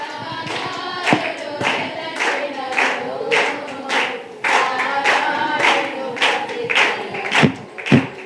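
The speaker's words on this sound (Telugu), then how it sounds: "చప్పట్లు కొడదాం." A church congregation claps together in a roughly steady rhythm, the sharp claps fairly close and loud, with some irregular accents and faint voices underneath.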